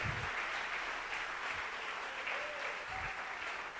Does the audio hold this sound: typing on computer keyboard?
no